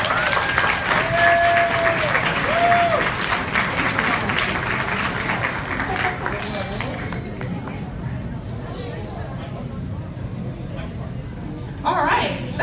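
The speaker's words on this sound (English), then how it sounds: "let's give Michael Parks a huge round of applause." Applause from an audience after a children's Dr. Seuss Day reading of The Sneetches, loud at first and tapering off, with crowd chatter and a few whistle-like tones underneath and a brief swell near the end.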